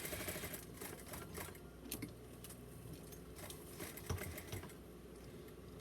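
Sewing machine back tacking a seam on a small doll romper, a quick rapid clatter of needle strokes with brief pauses, close and faint.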